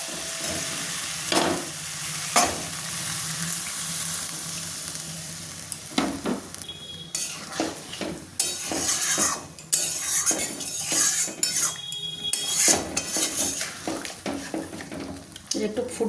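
Water is poured into a jackfruit and prawn curry, and the sizzle turns into bubbling as a spoon stirs and scrapes the pot, with clinks of utensils between louder bursts.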